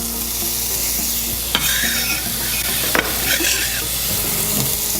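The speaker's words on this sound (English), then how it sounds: "I'm just gonna take my onions straight into the pan" Onions fry in a pan with olive oil, giving a steady close sizzle and hiss, broken by a couple of brief sharp scrapes as they are stirred.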